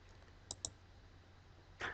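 Three sharp, quiet clicks of a computer mouse during data entry, two close together and a slightly longer one after a pause, over a low steady hum.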